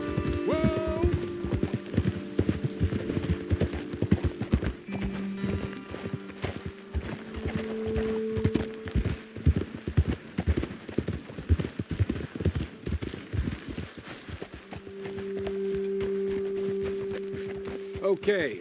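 Horses walking on a path in the Western open-world game Red Dead Redemption 2, steady overlapping hoof clops throughout with sustained tones and music layered underneath.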